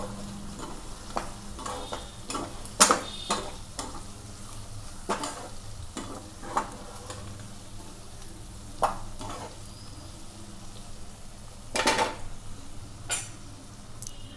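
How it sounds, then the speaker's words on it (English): Onion curry with coriander powder stirred in a pan, a spoon scraping and clinking in repeated strokes over a steady low sizzle, with occasional sharper knocks against the metal and no talking. "Mix them well."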